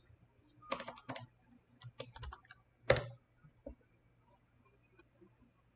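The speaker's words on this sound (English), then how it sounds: "let me type in the word font" Keys clatter on a computer keyboard in several short bursts of typing separated by pauses, with one sharper keystroke cluster standing out; nearby and fairly quiet, with no talking.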